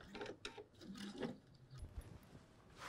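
A sewing machine backstitches across a fly front zipper seam in a quiet room, giving a faint run of rapid, even mechanical stitching pulses with no talk.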